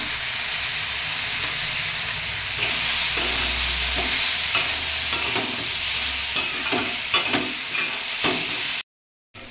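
A spiced vegetable curry with potatoes is stir-fried in a pan. A loud, continuous sizzle runs under repeated scraping and clacking strokes from the spatula, which grow busier toward the end before the sound cuts out.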